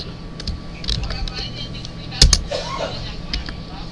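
The Tab key is pressed on a computer keyboard, a couple of sharp plastic clicks in quick succession, with a person talking throughout.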